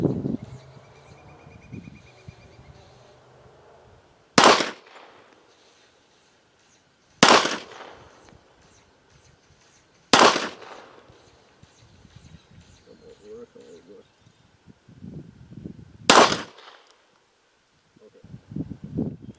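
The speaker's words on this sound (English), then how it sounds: "There's my wife shooting." Sharp gunshots at an outdoor shooting range, four loud, widely spaced cracks a few seconds apart, with quiet voices talking between them.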